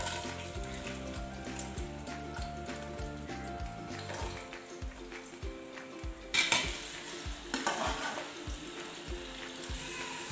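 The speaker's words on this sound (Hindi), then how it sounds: "जब ऑयल गर्म हो जाएगा तो हम इसमें ऐड करेंगे प्याज और उन्हें अच्छे से फ्राई कर लेंगे" Kitchen clatter of utensils against a pressure cooker as onions fry in oil with a soft sizzling underneath, punctuated by a louder metallic scrape and clank partway through.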